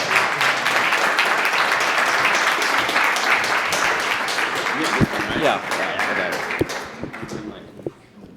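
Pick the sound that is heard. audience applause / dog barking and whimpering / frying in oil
audience applause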